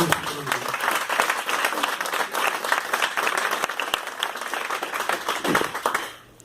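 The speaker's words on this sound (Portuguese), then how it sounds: "dá uma salva de palmas ao Senhor" A church congregation applauds in praise of the Lord during a Pentecostal-style sermon, a dense, steady wash of many hands clapping for about six seconds before it fades out at the end.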